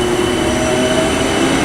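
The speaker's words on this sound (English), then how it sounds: "So there goes that one." A South Western Railway train passes through Weybridge station up close and loud, a steady rumbling roar of wheels on rail with a faint high tonal whine running throughout.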